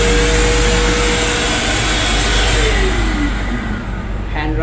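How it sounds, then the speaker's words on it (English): Hand dryer blowing in the toilet of a Vande Bharat train, a loud continuous close-up whoosh of air with a steady motor hum, holding level for the whole stretch. "hand dryer"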